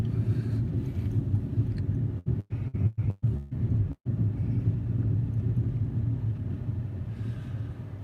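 A steady, loud low rumble fills the cabin of a damaged car driving on a freeway after a hard hit. The drone continues without speech, broken by several brief dropouts midway.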